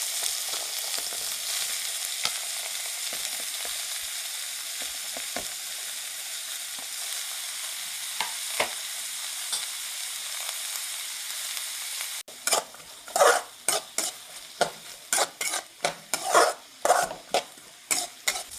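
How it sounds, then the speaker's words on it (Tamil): Cut onions and garlic fry in hot oil for a brinjal gravy, first as an even, continuous sizzle, then louder and choppier as stirring scrapes and clatters against the pan. "நல்லா 2 வெங்காயத்தை நல்லா இது மாதிரி கட் பண்ணி அதை போட்டுடலாம். அதோடையும் வெள்ளைப்பூண்டு சேர்த்திக்கிங்க."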